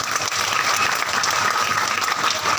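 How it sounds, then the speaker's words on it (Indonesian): A crowd at an Islamic religious lecture in a mosque setting applauds the young people, with dense, steady clapping throughout and no talk over it. "Tepuk tangan dong buat anak-anak remaja."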